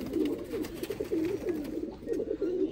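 A pigeon couple coos softly nearby in a low, throaty, rolling series of repeated coos, with no talk over it.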